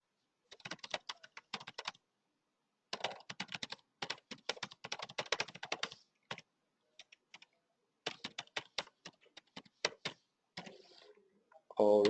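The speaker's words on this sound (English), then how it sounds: "Or let me just type. Let me just type." Bursts of typing on a computer keyboard, with rapid clicking keystrokes that come in uneven runs and stop for short pauses, fairly close and clear, with no talking.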